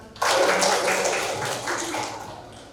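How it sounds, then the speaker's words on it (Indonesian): An audience bursts into applause in a classroom or lecture setting, brief moderate clapping that starts abruptly and fades over a couple of seconds. "Kita beri tepuk tangan."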